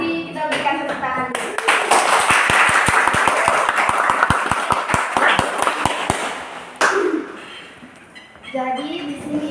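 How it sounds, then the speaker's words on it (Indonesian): A classroom group claps after a prayer at a microteaching session, a run of sharp, evenly spaced claps lasting several seconds, close and loud, with people speaking before and after. "kita berikan tepuk tangan"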